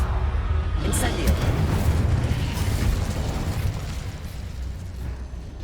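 A fire spell erupts in the Hogwarts Legacy video game, a dense roaring burst of flame with crackling impacts that sustains loudly and tails off slightly, mixed under spoken incantations.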